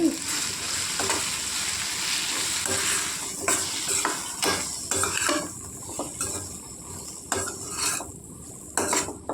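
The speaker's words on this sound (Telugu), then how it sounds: "నేను చింతపండు నానబెట్టుకొని ఉంచుకున్నానండి. వేసి కలుపుకోవాలండి." Soaked tamarind being stirred into fried green chillies in a pan, with a steady sizzle under repeated scraping and clinking of a spoon against the metal, loud and close throughout.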